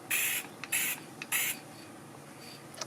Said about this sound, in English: I'm not going to spray it too heavy because I don't want it too glossy